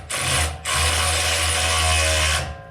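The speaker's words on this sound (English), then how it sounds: "Handy little electric ratchet." A handheld electric ratchet whirs steadily, used while fitting KONI front shocks to a Hemi Ram 1500; a brief pause near the start, then one sustained motor drone with a mechanical whine, close and fairly loud, no talk.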